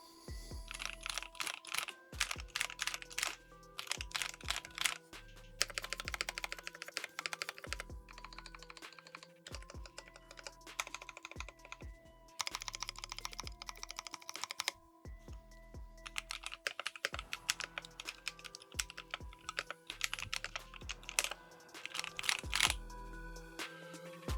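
Fast typing on a custom mechanical keyboard, a dense run of crisp clacky keystrokes in bursts with short pauses, close and alone.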